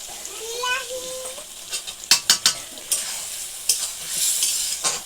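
A spice paste of ground dried chillies, cumin, coriander, turmeric and salt fries and is stirred with a little water, giving a soft sizzle broken by sharp spoon scrapes and clacks against the pan, with a faint voice early on.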